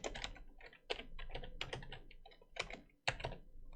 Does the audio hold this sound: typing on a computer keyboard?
yes